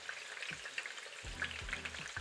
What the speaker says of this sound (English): He needs to add the onions slowly, otherwise the oil will sizzle too much.